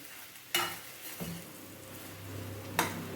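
Chopped okra being stir-fried in a pan, a low steady sizzle broken by a few sharp spoon knocks and scrapes against the metal, quiet and close.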